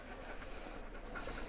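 Sled dogs at a dog-sledding kennel in Skagway, Alaska pant steadily in a quick, continuous rhythm, fairly faint and close against a noisy outdoor background.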